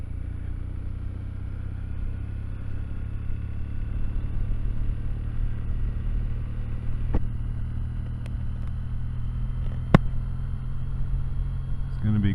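A motorcycle ridden along back roads keeps up a steady low engine drone and wind rumble throughout, with a few sharp clicks and knocks near the end and no talking.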